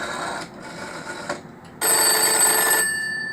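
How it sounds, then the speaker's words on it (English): An old dial telephone rings the other phone on the line, its rapid electromechanical bell clattering loudly and close in two bursts, a shorter one broken by a brief gap and then a longer, louder one, with no talking. "it's ringing the other phone"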